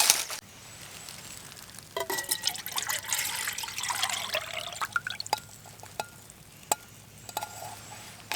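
Water pours and splashes into a pot at an outdoor camp cooking site, a close, bright stream lasting several seconds, followed by scattered metallic clinks and taps of cookware.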